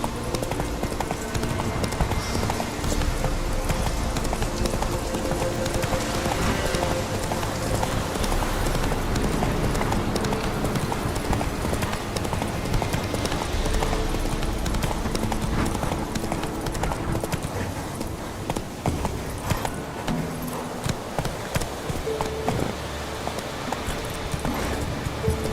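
Roach, the horse in The Witcher 3, gallops with a steady, continuous rhythm of close hoofbeats under dense ambient game sound for the whole stretch.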